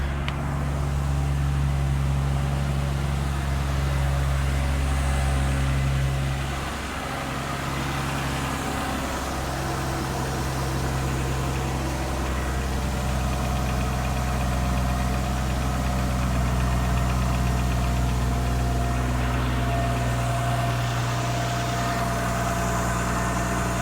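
A Toyota Supra MK3 engine idles smoothly after an oil pump replacement, a strong steady low drone with tonal hum that dips briefly once before settling back, close and continuous with no voices.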